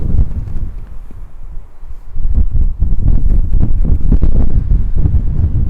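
Strong wind at a clifftop in Antalya buffets the microphone continuously, with loud, gusty low rumbling that intensifies partway through and stays heavy.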